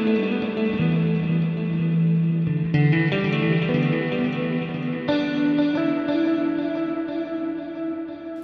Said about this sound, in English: You can hear how it swirls, just repeats itself all the time.